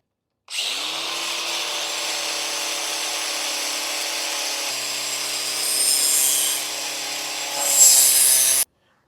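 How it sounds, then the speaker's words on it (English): Angle grinder lightly skimming the surface of a brake part from a Yamaha XJR1300 cafe racer motorcycle, a steady high whining grind under light pressure for about eight seconds, close and alone, with a brief pitch shift partway through. "I am not putting a lot of pressure on the grinder."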